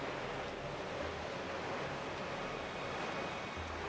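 A sailboat crossing ocean waves in The Legend of Zelda: The Wind Waker HD: steady broadband rush of water and wind at moderate level, continuous with faint low swells and no speech.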